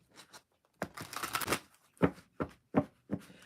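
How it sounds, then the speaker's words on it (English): Tarot cards are shuffled by hand in short, crisp riffles and bursts, one longer flutter followed by several quick separate snaps, close and quiet in a still room. "let's go ahead and pull a couple tarot cards"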